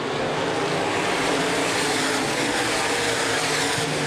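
Open wheel modified race cars roaring around Angola Motorsport Speedway, a loud continuous engine drone that fills the whole stretch with no voices over it.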